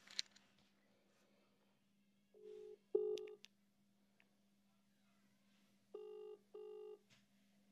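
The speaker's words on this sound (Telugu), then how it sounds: "ఇప్పుడైతే విష్ణు ఫోన్ చేస్తాడు, పదండి." A phone call being placed: a brief burst of keypad dialing tones, then repeated paired ringback pulses sounding clearly over a quiet, faintly humming room.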